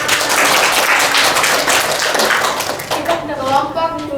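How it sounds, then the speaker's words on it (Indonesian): Students in a classroom during a microteaching lesson clap together, a dense, steady burst that fades toward the end as a voice begins speaking. "Tepuk tangan."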